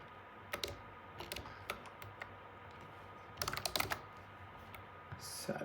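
Keys clack on a computer keyboard in short bursts as a date is typed, with a denser flurry of keystrokes near the middle, close and fairly quiet.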